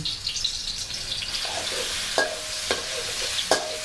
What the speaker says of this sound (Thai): ราจะคั่วกุ้งก่อนนะคะ กับกระเทียม